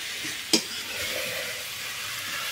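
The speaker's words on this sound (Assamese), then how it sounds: "এইফালে আমাৰ মানুহজনে একদম ধুনীয়াকৈ ৰাজহাঁহৰ মাংস বনাই আছে। এইফালে এয়া ৰান্ধনি পূৰা জুইত, বাহিৰত জুইতে বনাইছে, একদম ডাঙৰ কেৰাহী এখন পাতি লৈ।" Duck meat fries in a large kadai over an open fire outdoors, making a steady, even sizzle with one sharp clank of the stirring spoon early on and no talking.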